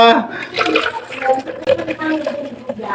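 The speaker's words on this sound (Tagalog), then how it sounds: "magtuloy-tuloy ang tulo niya" Water runs and trickles steadily from a makeshift setup, with people laughing and talking over the flow throughout.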